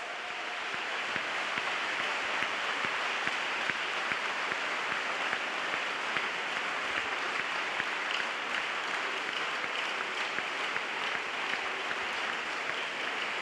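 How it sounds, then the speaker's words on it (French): A large crowd claps for Jesus Christ at an evangelistic salvation, healing and deliverance crusade in Yaoundé, producing steady, dense applause that holds at an even level from start to finish. "Let's clap for Jesus Christ."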